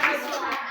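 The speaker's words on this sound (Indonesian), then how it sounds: "Nah, tepuk tangan buat semuanya ya." Students in a grade 5 classroom clap their hands together in a brief, dense burst of applause, with voices mixed in.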